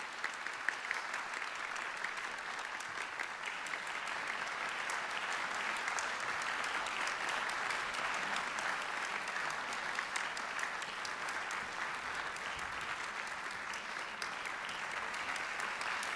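Sustained applause from an opera house audience at an award ceremony for laureates of a national vocal competition, a thick, even roar of many clapping hands lasting the whole stretch without a break.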